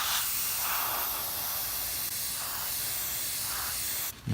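Primer sprayed onto a car body over seam repairs, a close continuous hissing spray with a few gentle pulses as the gun sweeps, cutting off briefly near the end.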